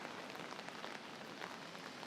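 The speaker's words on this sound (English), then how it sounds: "you tend not to see rain that much. You hear it on the umbrella" Steady rain drums on an umbrella during a walk through downtown Singapore, a dense, continuous patter close overhead with no voices.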